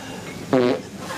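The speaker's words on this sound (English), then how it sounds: "You're farting in a restaurant." A single short, buzzy fart rings out loud and close, lasting a fraction of a second over a quiet room background.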